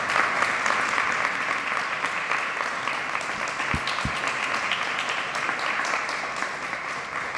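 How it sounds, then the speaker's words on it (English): Audience giving a standing ovation for a mayor at a neighborhood safety announcement: sustained dense clapping, fairly distant, fading slightly toward the end. "would you stand on your feet and honor our mayor with applause today?"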